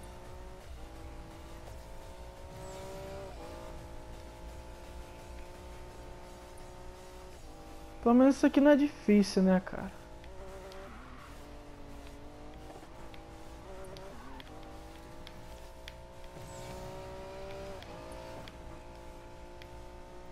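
A fast race car engine in Need for Speed Payback drones in a steady, shifting whine with a sharp burst of squeal or revving midway, while someone talks over it.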